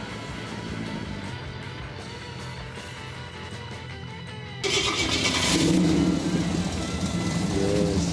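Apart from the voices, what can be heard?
V8 muscle car engine with flat-plane crank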